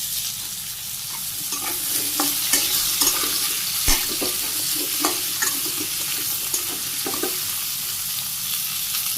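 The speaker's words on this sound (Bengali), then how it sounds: "সবজি কষিয়ে নিই ভালোভাবে।" Potatoes, radish and other vegetables sauté in hot oil with onion and cumin in a village kitchen, a steady loud sizzle with scraping stirs of a utensil recurring throughout.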